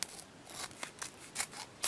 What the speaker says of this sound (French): je vais user des ciseaux pour pouvoir ouvrir tout ça